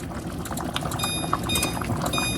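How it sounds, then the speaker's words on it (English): Thick homemade chunky chicken chili bubbling in a pot as it simmers, a dense patter of small pops and blurps, close up and continuous. "It's going to taper down some on these bubbles from boiling"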